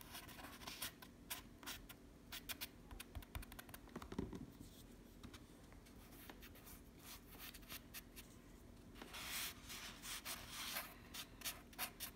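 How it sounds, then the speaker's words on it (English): A finger rubs paint off a small Dollar Tree craft pumpkin, making faint, close, dry scratching and rubbing strokes in an irregular rhythm over a quiet background, with occasional handling bumps. "I'm just rubbing it off with my finger."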